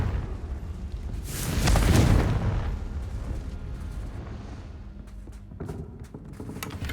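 A Confringo explosion spell in a video game, a deep rumbling blast that swells and fades over a couple of seconds, followed by quieter crackling debris.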